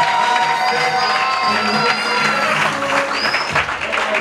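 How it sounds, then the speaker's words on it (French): Applause mixed with cheering and whoops from guests at a civil wedding ceremony at the town hall, a loud continuous crowd roar with scattered voices rising above the clapping. "Applaudissez encore plus fort."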